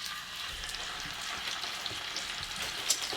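About 1.25 pounds of grass-fed ground beef fries in a 10-inch cast iron skillet, a steady, dense crackling sizzle with small pops, up close and with no voices.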